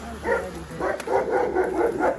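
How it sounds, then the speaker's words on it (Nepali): A dog barks nearby in a quick run of five or six yapping barks, fairly loud and alone without talk. "कुकुर कराएर"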